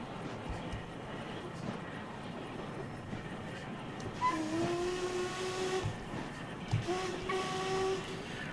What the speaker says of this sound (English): I do love that whistle. That whistle does sound good.